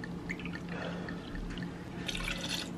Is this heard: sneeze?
no